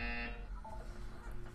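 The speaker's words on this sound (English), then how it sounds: "When you hear the buzzer, look down at the floor." A short, steady electronic buzzer from the video game Portal 2 sounds at the start and then cuts off, leaving a low hum behind it.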